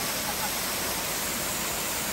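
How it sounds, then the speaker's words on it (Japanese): A waterfall on Kakeromajima island roars as a steady, dense broadband rush, loud and unbroken throughout with no distinct events. "すごい滝ね、これすごい。"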